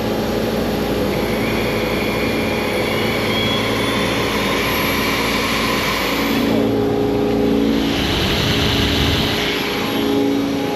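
A CNC mill cutting 6061 aluminum with an air blast gives a steady, loud, continuous whir and hiss with a broadband roar throughout, swelling slightly in the latter part.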